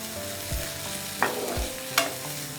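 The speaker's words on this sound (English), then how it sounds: "Now I'll add red capsicum and again saute for a while." Red capsicum sauteing in a pan, a steady close sizzle broken by a few spoon scrapes and stirring knocks against the pan.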